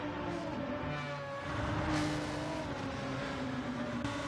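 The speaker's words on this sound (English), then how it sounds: "Engine still sounds like it's running." Car engine running steadily in the racing video game FlatOut on a forest track, a sustained droning motor hum with harmonic whine that rises slightly midway, continuous and fairly loud throughout with no talking.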